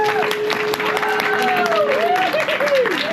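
Audience applause for the host of a fingerboard convention panel, a continuous patter of clapping with whistles and whooping voices riding over it.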